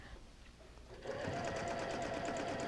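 A sewing machine stitching free-motion quilting starts up about a second in and runs at a steady, fast needle rhythm, close and continuous with no talking.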